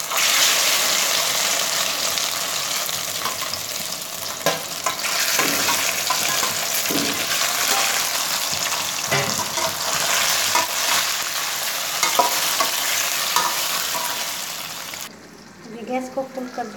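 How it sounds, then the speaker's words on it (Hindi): Gunda (lasoda) fruit frying in oil with asafoetida, stirred over high heat, produces a dense, steady sizzle with scraping strokes, then drops abruptly near the end as a voice speaks. "गैस को फुल कर देंगे और इस तरह चलाएंगे ताकि अंदर का जो गोंद है वो एकदम ठीक हो जाए अच्छे से"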